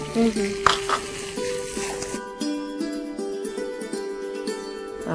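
Grated paneer and ginger sauté in a pan, a soft sizzle with a few scraping stirs, under a steady electronic hum; a person speaks in the clip.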